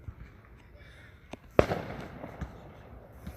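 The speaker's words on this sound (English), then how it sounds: "I just heard a firework." Fireworks go off at a distance. One sharp, loud bang is preceded by a smaller pop and followed by fainter crackles and thuds against a quiet background.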